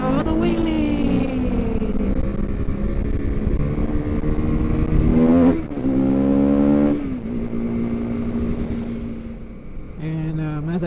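A KTM Duke 390 motorcycle revs hard during a wheelie, with loud rising and falling engine pitch, several throttle bursts, a brief drop after mid-clip and a fresh rev at the end, recorded close with wind rush.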